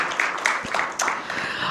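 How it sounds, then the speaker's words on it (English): An audience at a talk event gives a short round of applause, a soft, diffuse patter of many hands heard from some distance, brief and steady. "Can we give him a round of applause again?"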